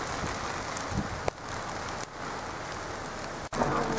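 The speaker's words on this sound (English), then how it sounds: "But certainly consistent icy pellets." Icy pellets falling steadily outdoors during an unseasonal storm on a hill, a dense even hiss of small impacts with a few sharper clicks and knocks nearby.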